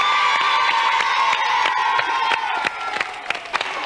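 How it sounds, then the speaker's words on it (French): A television studio audience, children among them, claps and cheers for gifts and contestants, with a bright sustained tone underneath, then the applause thins into scattered claps. "on peut applaudir et les cadeaux et les candidats"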